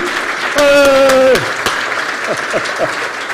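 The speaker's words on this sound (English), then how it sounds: "Let's give a thunderous applause for the one and only Tim Sykes." Applause at a sustainability awards ceremony for Tim Sykes, a steady bed of clapping under a loud cheering voice, with further whoops and calls breaking through.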